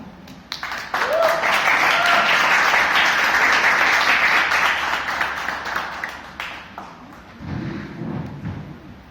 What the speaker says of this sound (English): let us invite on stage with a huge round of applause Toastmaster Ajay.